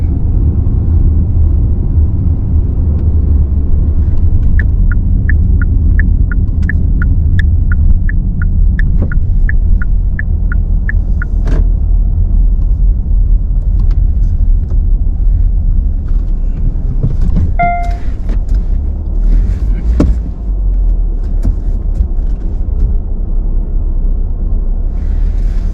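Low rumble of cars moving through a car park fills the whole stretch, steady and fairly loud, with a run of rapid ticking clicks early on and a few sharp chirps and bangs later; no voices.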